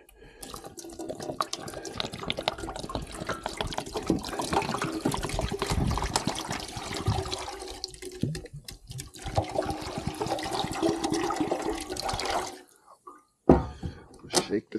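Liquid from an electrolysis cleaning job on a Caterpillar D2 5J carburetor is poured into a container in a long, gurgling stream with drips and splashes. It stops near the end, and a voice speaks at times.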